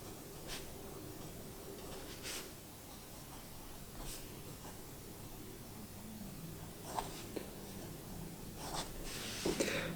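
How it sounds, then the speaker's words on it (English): Fountain pen fitted with a cheap eBay nib scratching across paper in a short writing sample, soft continuous strokes with a few brief louder scrapes, close and quiet with no talking. "Let's get into a very quick writing sample."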